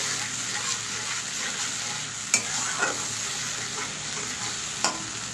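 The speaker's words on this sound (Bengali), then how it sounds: "মশলাটাকে আমি কষিয়ে নিই" Onion and ginger paste being sautéed in a pan while cooking fish curry: a soft, continuous sizzle with occasional clinks and scrapes of a spoon stirring, fairly quiet and close.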